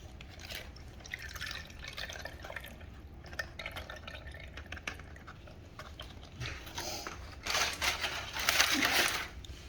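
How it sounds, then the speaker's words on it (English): Brisket au jus poured into a strainer, a steady trickling drip and splash of liquid running through the mesh for several seconds, growing a little louder toward the end, with no talking. "I'm going to pour it into my strainer."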